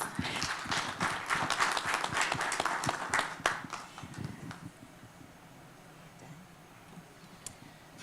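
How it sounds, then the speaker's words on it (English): Audience applause at a conference session, a burst of clapping that is loud for the first few seconds, then thins and fades into low room noise with a few stray claps. "Let's give her a round of applause."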